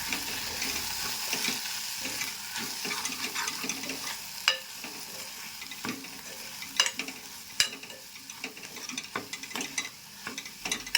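Peanut powder and salt get stirred into a broad bean curry in a pan, quiet scraping and clicking strokes over a low simmering sizzle.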